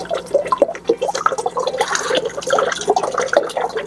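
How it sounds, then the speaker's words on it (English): Water sloshes and gurgles inside a spun plastic tornado bottle, a busy close-up swirl of bubbling and splashing that carries on steadily without talk. "you're gonna flip it over so that the filled one's on top, and you're gonna wanna spin it super fast and aggressive"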